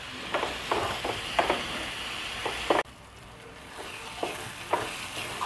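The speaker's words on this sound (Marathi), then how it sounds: "कांदा, टोमॅटो आणि लसूण तेलामध्ये ना चांगलं मस्त असं फ्राय करून घ्यायचं आहे व्यवस्थित" Onion, tomato and garlic fry in hot oil for a squid masala, giving a steady close sizzle broken by repeated scraping stirs of a spoon in the pan, with no one talking.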